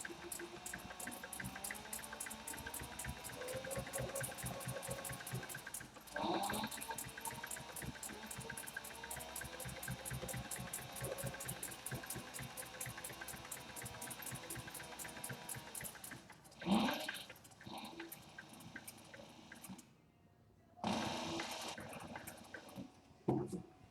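An industrial sewing machine stitching a canvas and leather tote bag, running in a rapid rhythmic mechanical chatter for long stretches, with brief pauses and louder bursts of handling noise near the end.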